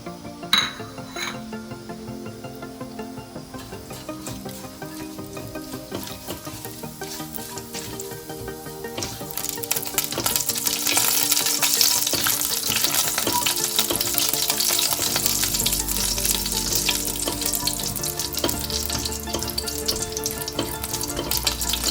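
Spices dropped into two spoons of hot ghee in a pan for paneer capsicum kaju masala, a few clinks at first, then frying that swells into a louder, dense crackling sizzle.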